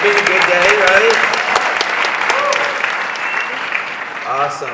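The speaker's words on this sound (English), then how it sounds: "let's give a round of applause to Monica and Dave and Christina" Audience applause at a coach summit team meeting, steady clapping throughout with voices and cheers mixed in over it.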